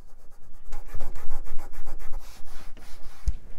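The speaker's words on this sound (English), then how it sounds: "Just using Windex on a microfiber cloth." Microfiber cloth dampened with Windex rubs briskly over a scuff on a late-1990s HP computer part, a quick run of close, rhythmic wiping strokes with a small knock near the end and no talking.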